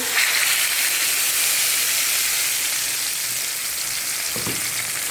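Loud, steady sizzling of chicken frying in hot oil in a pan, a continuous close crackling hiss with no talking.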